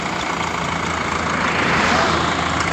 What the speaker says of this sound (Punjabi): ਦੇਖੋ ਆਉਣੇ ਸਟਾਰਟ ਹੋ ਗਏ ਟਰੈਕਟਰ